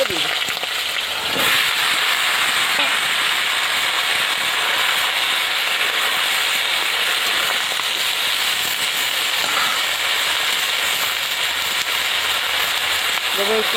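Banana stem and potatoes dropped into hot oil in a village kitchen give a loud, continuous hiss and sizzle that holds steady throughout, with a brief clatter near the start.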